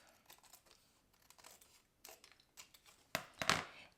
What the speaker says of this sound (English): So we're just going to flip it over and we're just going to cut that off.